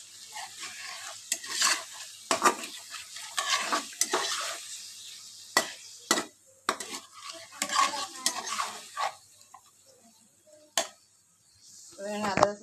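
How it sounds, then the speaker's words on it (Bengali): Potatoes sautéing with ginger, garlic and onion in a pan, an uneven series of clattering spatula scrapes and knocks against the metal over a soft background, close up and intermittent with short pauses between strokes. "এবারে আলুটাকে ভালো করে কষাবো"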